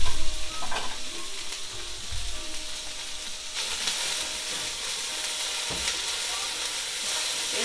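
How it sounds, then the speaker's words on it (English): Collard greens sizzle and pop in bacon grease over medium heat, a close, lively crackle broken by occasional stirring scrapes and thumps. "Let them cook down a little bit into this bacon grease."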